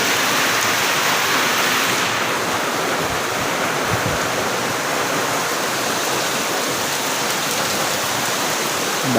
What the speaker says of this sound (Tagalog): Wala dyan po ni undang ang ulan.